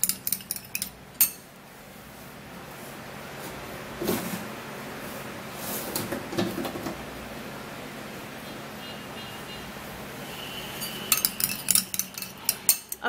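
Lotion ingredients being mixed in a bowl: a utensil clinks and scrapes against the bowl in short bursts, with quieter stretches between and a quick run of taps toward the end, close and with no talking.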